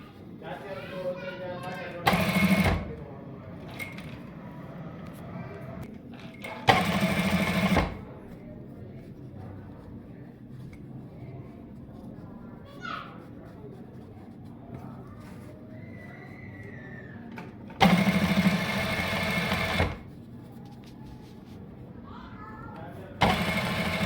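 A sewing machine stitches a double welt pocket on trousers in a tailoring workshop, several short loud bursts of rapid whirring a few seconds apart, with a person talking in between.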